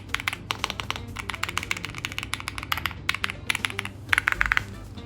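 Rapid typing on an EPOMAKER QK81 mechanical keyboard produces a steady stream of crisp, close clicks and clacks with a quick flurry near the end.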